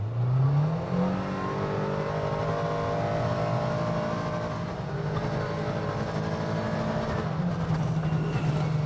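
A Kawasaki Ridge Crew side-by-side in high range, two-wheel drive, accelerates hard from a stop, its engine note rising in a sweeping climb into a sustained loud, tonal drone that holds and shifts slightly toward the end.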